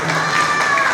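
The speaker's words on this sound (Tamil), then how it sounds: "ஜோரா ஒரு கைத்தட்டல் கொடுக்கலாம் உங்களுக்கு." A brief burst of audience clapping at an annual function of a two-wheeler repair workers' association, loud and continuous with voices mixed in.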